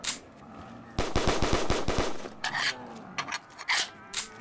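World at War weapons fire in the Call of Duty zombies video game, a loud rapid burst of about eight automatic shots followed by scattered scraping and clattering sounds.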